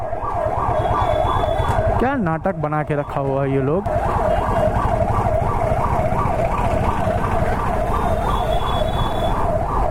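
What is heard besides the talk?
ambulance siren passing in city traffic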